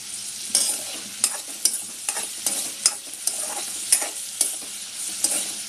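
Radish paste sautéing in hot oil in a wok for a Malvani chutney, a steady close sizzle broken by sharp, regular scrapes of a spatula stirring it, with no voices.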